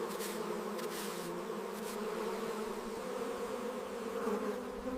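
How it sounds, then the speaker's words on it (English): Honey bees swarm and buzz steadily around an open hive while frames are worked, a dense continuous hum close by with a few sharper passes of individual bees, no voices. "Bees are brushed away gently, ensuring no harm is done to the colony."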